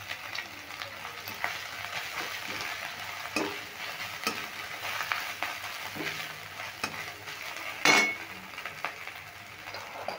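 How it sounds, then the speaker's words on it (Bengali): Finely chopped soybean chunks fry in a pan with a steady close sizzle, stirred continuously with scraping strokes and one louder metallic clink. "ভাজার পর এবার দিয়ে দেবো সোয়াবিন, কুচো করে রাখা সোয়াবিনগুলো দিয়ে দিলাম"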